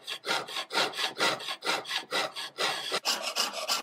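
A jeweler's saw frame cutting through metal, with a steady rhythm of about a dozen close, rasping strokes over four seconds, each one a bright scratchy burst with short gaps between.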